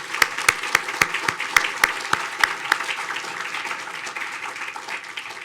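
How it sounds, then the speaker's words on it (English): Scattered claps build into steady applause from a UCLA stem cell science symposium audience, with sharp individual hand claps standing out early before thinning toward the end. "So let's give them a round of applause."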